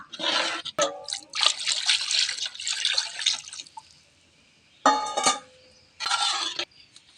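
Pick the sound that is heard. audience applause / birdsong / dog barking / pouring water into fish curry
pouring water into fish curry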